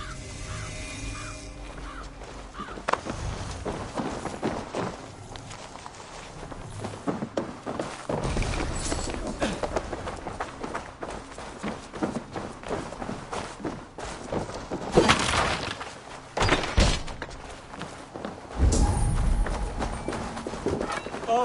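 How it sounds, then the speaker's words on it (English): Horses gallop in Assassin's Creed Valhalla, their hoofbeats thudding in rapid clip-clop runs under game sounds, with louder bursts near the middle and end of the ride. "Basim, Eivor, to horse!"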